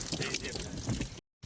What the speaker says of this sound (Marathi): इथे एक छोटीशी पाण्याची बोरिंग आहे. तर पाणी प्यायला थांबले.